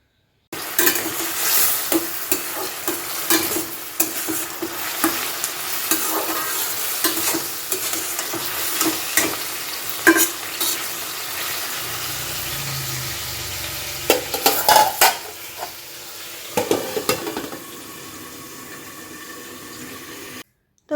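Egg chow stir-fried with carrot, potato and soy sauce, a steady sizzle with scraping stirs and clatters against the pan, plus a short run of water, all without talk.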